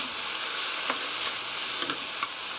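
Meat stir-frying in a pot as the base for a napa cabbage stew, giving a steady soft sizzle with a few brief scraping stirs, close and moderately loud, with no talking.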